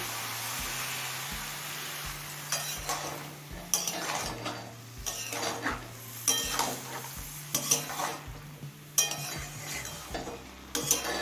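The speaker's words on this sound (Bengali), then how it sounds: "জল দিয়ে আবারও একবার ঝিঙেটা নাড়াচাড়া করে নিয়েছি" Ridge gourd with a little water being stirred in a pan: repeated spoon scrapes and knocks in bursts over a soft sizzle, with a steady low hum throughout.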